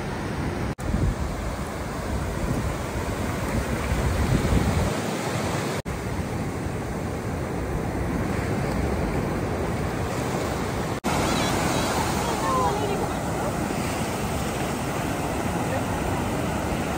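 Sea waves break and surge steadily at Golden Beach in Puri, Odisha, a loud continuous roar of surf with brief dips, heard up close with no clear voices on top.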